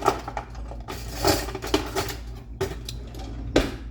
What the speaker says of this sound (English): here's me getting ready to cut a piece of this cake